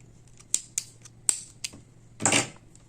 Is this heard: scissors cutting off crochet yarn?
yes